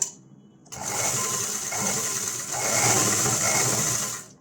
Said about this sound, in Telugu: ఫస్ట్ స్ట్రైట్గా అలా కుట్టు వేసుకోవాలి